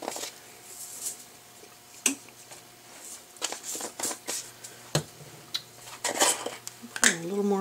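A wooden spoon stirs mac and cheese in a pot, giving irregular scrapes and knocks against the pot walls, with brief quiet gaps between the clatters.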